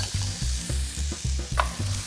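Beans and onions stirred in a hot sauté pan, a steady sizzle broken by about seven rhythmic scraping strokes of a spoon, close and clear with no voices.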